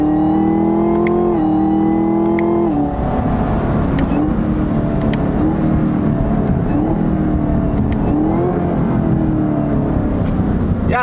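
Car engine revving hard as gears are shifted while driving, a loud continuous roar whose pitch climbs, drops at each shift and climbs again, close and with no talking.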